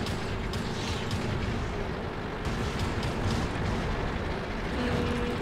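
Dense, steady roar of combat in World of Tanks, with tank cannon fire and explosions layered into a continuous loud wash rather than distinct separate shots.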